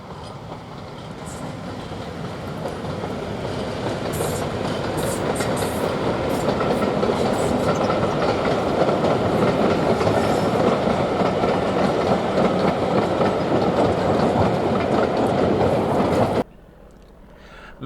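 Diesel locomotive 31128, with a 12-cylinder English Electric engine, climbs to the summit of the Swanage branch. The engine roar swells as it nears with a rhythmic clatter of wheels, loud and steady, then stops abruptly.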